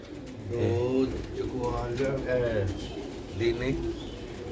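Pigeons coo at a pigeon seller's loft in Sialkot, soft throaty rolling calls layered under someone talking throughout.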